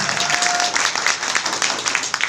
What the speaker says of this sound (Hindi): जबरदस्त ताली होनी चाहिए साहब